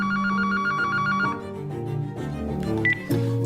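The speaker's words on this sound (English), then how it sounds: "And then the phone rang." A telephone rings with a rapid trilling bell pattern that repeats steadily for over a second, then trails off amid a soft musical background and a few electronic tones.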